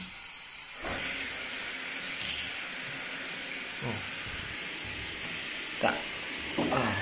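A tap runs steadily in a hotel room, making a constant hissing stream with a few faint knocks and clinks over it and some quiet voices.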